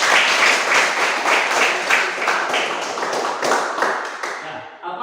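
A classroom group claps for group 3, dense steady applause from many hands, loud and close, tapering off in the final second.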